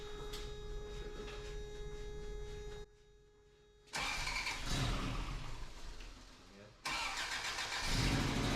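A Toyota truck engine runs with a steady mid-pitched hum, cuts out into near quiet, then cranks and catches into a rough, louder idle that dips and surges again, with voices mixed in.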